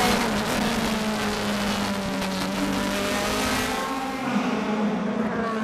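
Onboard engine of Gary Paffett's number 3 DTM race car during qualifying at Moscow Raceway, a loud sustained engine drone with shifting pitch as it accelerates through the gears, close and steady throughout.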